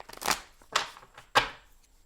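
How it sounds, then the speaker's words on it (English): Tarot cards shuffled by hand in three brisk, crackling bursts, each rising sharply and then fading, close up with short pauses in between and no voices. "Your cards are being a little stubborn, shuffling here"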